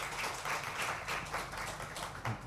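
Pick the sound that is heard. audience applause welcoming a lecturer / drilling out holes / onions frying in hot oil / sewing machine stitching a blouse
audience applause welcoming a lecturer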